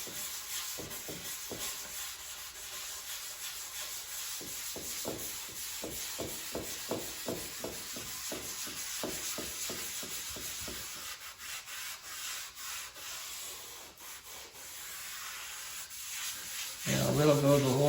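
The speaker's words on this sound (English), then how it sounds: "I'm using the gray pad, which is like a fine abrasive" Gray fine abrasive pad, roughly 220 to 300 grit, rubbing wood finish into a surface like wet sanding; close, steady scrubbing strokes in a rhythmic back-and-forth run, then a pause with quieter rubbing.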